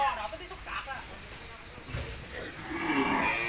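An eight-month-old beef cow on a cattle-fattening farm lets out low, drawn-out moos under someone talking nearby.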